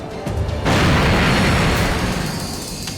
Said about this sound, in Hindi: बस एक बार धमाके की आवाज सुन लूं तब सुकून मिले।